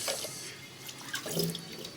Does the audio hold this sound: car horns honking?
no